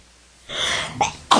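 A single sharp sneeze bursts out in a public zoning hearing room, a quick inhale followed by two loud expulsive bursts, close and alone.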